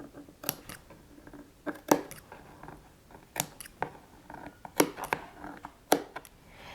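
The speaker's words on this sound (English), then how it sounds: "take some small scissors and cut little slits, but make sure you don't cut through your stitch line" Small scissors snip slits into sewn fabric along a curved seam, a string of sharp, close crisp cuts coming in irregular bursts with quiet pauses between them.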